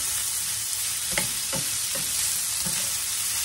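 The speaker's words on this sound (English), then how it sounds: "We're going to stir them up now." Potatoes and onion fry in a skillet over medium heat with a steady broadband sizzle, broken by four distinct scraping stirs spaced about half a second apart.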